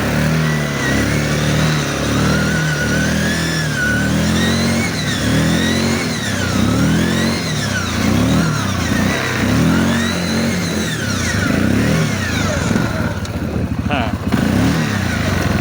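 A Yamaha Grizzly ATV engine revving up and down repeatedly in close, loud surges, rising and falling in a wavering rhythm, with someone talking over it and a sharp metallic clunk near the end.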